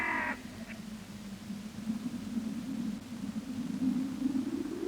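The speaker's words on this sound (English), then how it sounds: "All we hear is the soft howl of brisk wind and the distant sounds of birds." Soft, steady wind hiss on a summer island in a quiet film scene, with a brief distant bird call at the very start and no music or dialogue.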